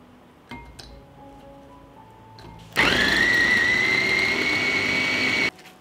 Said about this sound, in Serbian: I iseckanu papriku usitnit ću u secku.